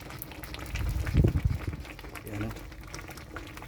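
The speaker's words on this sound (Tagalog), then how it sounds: "kulong-kulo na yung iluto nating saging sa mga idol" Saba bananas boil in water in a covered pan, a close bubbling roil with brief surges, while a person talks over it.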